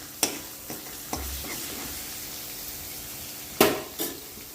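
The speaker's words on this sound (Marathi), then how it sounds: "त्यामध्ये आलं लसूण पेस्ट टाकून घेऊ आपण तेल तापलेलं आहे" Ginger garlic paste hits hot oil in a pan with a steady sizzle, punctuated by a few sharp clanks and scrapes of a spoon stirring against the metal, close up and without any talk.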